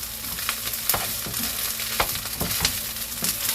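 Korean miyeokjulgi seaweed stems tossed with sesame oil and sesame seeds sizzle in a pan while being stirred, with a steady frying hiss broken by regular scraping strokes of the utensil, close and without talk.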